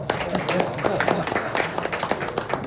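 An audience at a Korean book-launch discussion on public servants' sense of duty breaks into steady applause, a dense patter of many hands clapping close and continuous with no speech over it.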